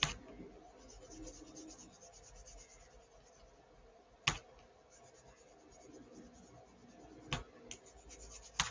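A pencil colours in a drawn line on paper, giving steady soft scratchy rubbing strokes up close, broken by a few sharp clicks.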